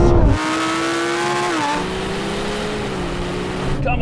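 Several supercars, a Ferrari 296 GTB, McLaren 750S, Lamborghini Huracan Performante and Porsche 911 Turbo, launch hard in a drag race, engines roaring loud and close with rising revs and shifting pitch throughout, briefly ending on a sharp tire chirp.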